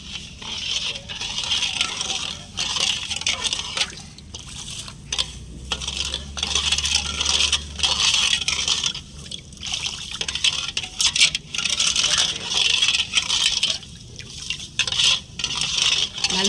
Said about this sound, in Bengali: বন্ধুরা, এবার আমি হাতার সাহায্যে গুলিয়ে নেব।